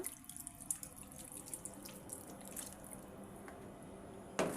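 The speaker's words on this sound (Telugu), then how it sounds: "ఇప్పుడు ఇందులోనే లైట్గా నీళ్లు వేసుకోండి ఎందుకంటే మనకు కాయలు చికెన్ అంతా ఉడకాలి కదా" Water runs and splashes into a cooking pot of chicken and vegetables, a steady faint trickle and slosh, with a louder splash at the very end and no talk.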